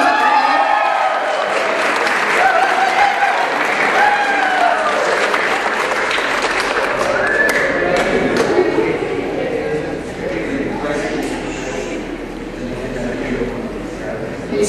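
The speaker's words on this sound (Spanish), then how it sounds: "Un aplauso." Steady applause from an audience at a school chess award ceremony, many hands clapping continuously at close range for the whole stretch. Voices and chatter run underneath, and the clapping eases slightly toward the end.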